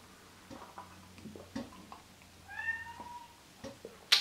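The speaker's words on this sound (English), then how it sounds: "Cat's crying because the cat wants some." A house cat meows for food in a kitchen while juice is being made: a few faint, close, rising and falling meows midway through, among light clinks and handling noises.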